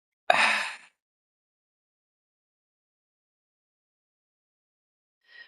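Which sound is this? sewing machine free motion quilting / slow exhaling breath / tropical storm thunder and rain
slow exhaling breath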